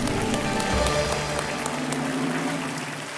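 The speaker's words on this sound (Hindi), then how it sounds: "तालियां बजती रहनी चाहिए देवी और सज्जनों।" Studio audience applause on a TV quiz show, dense and steady clapping that fades slightly toward the end.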